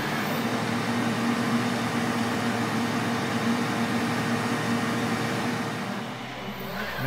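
An Elegoo Centauri Carbon 3D printer running a PLA print gives off a steady mechanical whir with a low fan hum. The sound is continuous and close, easing off slightly near the end.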